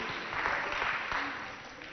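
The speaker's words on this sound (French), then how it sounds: "Applaudissez pour vous, pour votre établissement et pour vos enseignants" A crowd claps steadily for about two seconds, a dense, even patter of many hands with a faint murmur of voices underneath.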